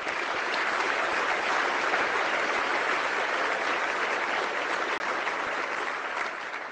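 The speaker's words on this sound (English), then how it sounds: "A little round of applause" Sustained, dense applause from a large conference audience fills the hall after the opening of a keynote at the NDTA/USTRANSCOM 2022 Fall Meeting, holding steady and loud throughout without talk over it.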